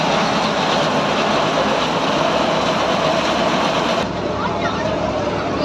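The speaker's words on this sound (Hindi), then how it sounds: "ये ट्रैक्टर साथ चला हुआ है" A tractor engine runs steadily to power a makeshift air-conditioning rig at a Pakistani wedding feast, giving a loud, continuous rumbling drone with a slight change in tone near the end.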